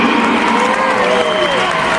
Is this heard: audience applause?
yes